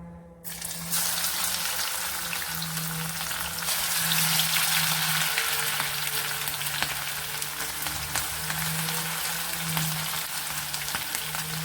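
Okra sizzles steadily in hot oil in a kadai, a constant close crackling fry with a low bubbling hum underneath, heard alone without voices.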